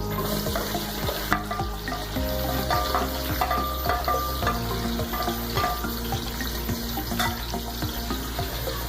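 Onions and cumin seeds frying in hot oil in a pan, a continuous close sizzle with frequent stirring clinks, a low steady hum underneath, no voices.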